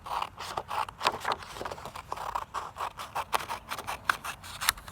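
Scissors snip through a paper craft strip, cutting it in half: a quick run of crisp, closely spaced clicks and snips, fairly close and moderately loud, with no talking.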